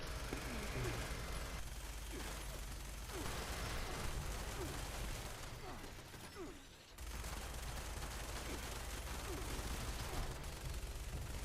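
Automated turrets in Fallout 76 fire dense, continuous bursts at a moderate distance, rattling on with a brief lull partway through, while a person talks underneath.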